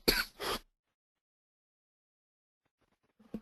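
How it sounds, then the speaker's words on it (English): A man clears his throat and coughs twice in quick succession, close and fairly loud, followed by a long silence and a brief faint sound at the very end. "Excuse me while I cough up a lung."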